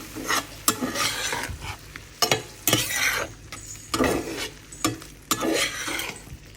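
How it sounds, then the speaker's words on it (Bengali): Taro flowers frying in a pan, with a steady sizzle broken by repeated sharp clinks and scrapes as the pieces are stirred, close and fairly loud. "এই যে কচুর ফুল ভাজা করছি এখানে"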